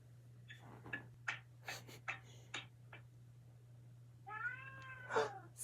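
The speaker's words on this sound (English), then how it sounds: "stop meowing" A house cat meows repeatedly indoors, a string of short, fairly close cries with gaps between them, ending in a longer, drawn-out wavering meow, over a steady low electrical hum.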